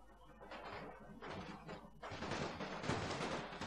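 Musket volleys in the video game Napoleon Total War, distant, faint rippling bursts of massed fire that come in several uneven waves, with a low rumble underneath.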